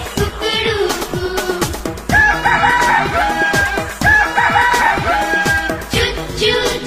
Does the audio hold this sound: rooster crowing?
yes